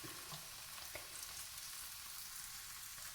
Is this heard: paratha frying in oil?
yes